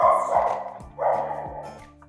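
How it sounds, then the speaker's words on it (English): A dachshund barks and yips close by, two short bursts about a second apart with a whimpery tone, over faint background hum and no talking. "we are here reading with Tucker the Dachshund"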